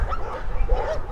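Several Golden Retrievers bark and yip close by, with short loud woofs mixed with whimpering cries in a quick, uneven burst.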